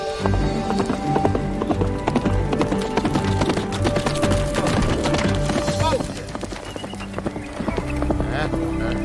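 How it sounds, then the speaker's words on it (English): Hooves of a big black horse clip-clop steadily and close by as it is ridden, with a whinny and a sustained tone over the rhythmic beats. "Will, that girl sure knew what she was doing when she bought that big black horse."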